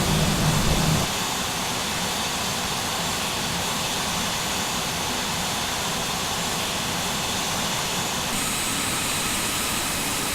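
Airliner jet engines droning at cruise altitude, a steady broadband cabin roar that stays constant and fairly quiet after a brief louder rumble at the start.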